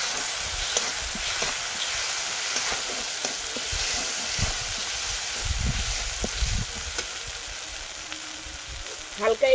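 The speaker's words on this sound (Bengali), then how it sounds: "হালকা একটু জল দিয়ে মশলাটা কষিয়ে নেব।" Spice paste with turmeric and salt sizzles and fries steadily in a pan for a Bengali shol fish curry, a continuous close crackle with soft stirring scrapes and light clatter throughout.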